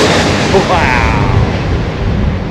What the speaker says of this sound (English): Can you hear the rumble of the vortex,